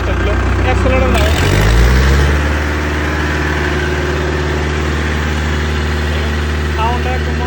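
A tractor engine cranks and catches, then settles into a steady low rumbling idle with a throbbing mid-range chug, close and loud throughout.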